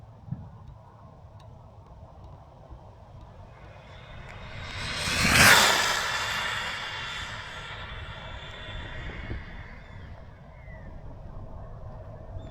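A Rlaarlo SBK10 4S RC buggy on a speed run at around 75 mph, its whine building from far off to a sharp, loud pass and then fading away over steady background noise.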